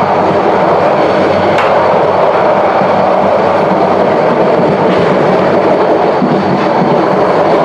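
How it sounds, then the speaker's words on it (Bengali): The Subarna Express passenger train crosses another train at Comilla station, sounding from on board as a loud, continuous rumble of rolling wheels with rhythmic clickety-clack over the rail joints and occasional sharp squeals. "আরেকটা ট্রেনের সাথে ক্রসিং"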